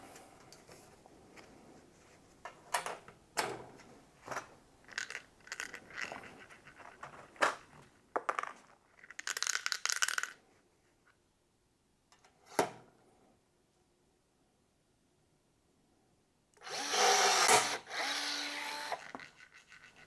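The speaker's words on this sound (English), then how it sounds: "pull and hold. And you get a rivet." A rivet tool sets rivets while intercooler ducting is fastened on an E46 BMW M3, making a run of sharp clicks and snaps with rustling, then a pause and a louder burst near the end.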